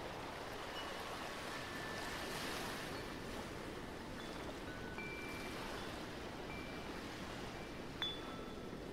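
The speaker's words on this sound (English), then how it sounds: "as you watch the ocean waves, you feel more and more drawn to its warm embrace" Ocean waves roll and wash in a steady, continuous surf, broad and unbroken from start to finish at a moderate distance, with one brief sharper splash near the end and no voices.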